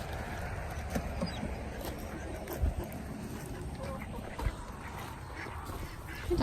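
Ducks quacking on a farm outdoors, scattered calls over steady background noise with people chatting nearby.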